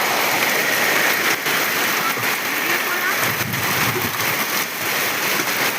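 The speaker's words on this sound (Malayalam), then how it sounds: "ഓ, ഇങ്ങനൊരു മഴ, എന്താ മഴ, പെരുമഴ" Heavy downpour of summer rain, a dense continuous hiss of drops pouring down close by, steady and loud throughout the clip with no breaks.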